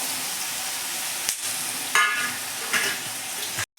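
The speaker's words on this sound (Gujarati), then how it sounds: "આ આપણે કેરી કાપીને રાખી છે એ હવે અંદર વઘારની અંદર એડ કરી લઈશું" Cut raw mango pieces drop into a hot tempering of oil and asafoetida. A loud, close, steady sizzle rises in a couple of brief surges as pieces land, then stops suddenly near the end.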